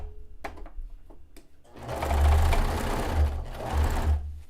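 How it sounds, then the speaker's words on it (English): A few light clicks and taps, then a sewing machine whirs into rapid stitching, running steadily and fairly close for a couple of seconds. "I'm gonna do this on the regular sewing machine"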